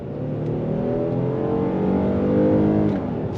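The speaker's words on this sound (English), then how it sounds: "Nice smooth linear torque delivery from that V6 with the 8-speed automatic." A 2025 Kia Telluride SX Prestige V6 with all-wheel drive and an 8-speed automatic accelerates in sport mode, its engine note climbing smoothly and steadily from inside the cabin, loud and close, with no talking.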